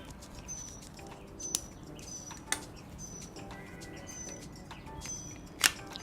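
Small birds chirp faintly outdoors on a nice day, brief high tweets repeating at intervals behind a low ambient hush, with a few sharp clicks and knocks close by.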